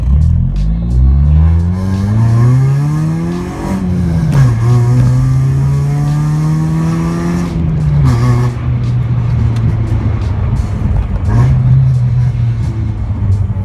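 A modified-intake engine in a Honda Accord CB3 idles and revs up nearby, the pitch climbing then settling to a steady drone, with someone talking over it.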